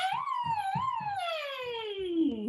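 A single voice imitates a siren during a singing lesson, sliding up and down in pitch then gliding steadily downward, close and clear, lasting a few seconds.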